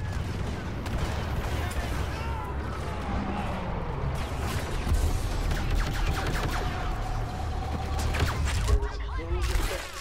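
Blaster pistol fire from a Star Wars Battlefront match, a steady string of sharp shots layered over dense battle noise, explosions and other weapons, with a voice talking in the background at times.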